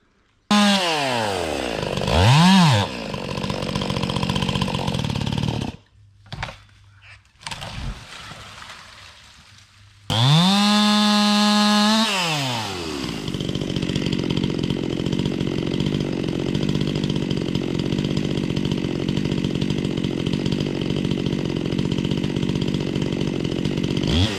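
Modified Stihl MS261 chainsaw cutting into a tree on a dangerous job, loud close revving that rises and falls, idles briefly, then runs at a sustained full-throttle cut.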